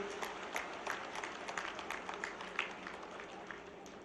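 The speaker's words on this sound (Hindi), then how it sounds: "जोरदार तालियों से हम अभिनंदन करें, स्वागत करें" An audience at the Chief Minister's residence in Bhopal applauds to welcome the Chief Minister, a soft, distant, continuous patter of many hands clapping.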